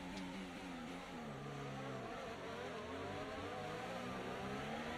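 Race car engine in the F1 24 video game held at full throttle, a loud continuous high-pitched whine with shifting harmonic tones as it accelerates, steady and close throughout with no talk.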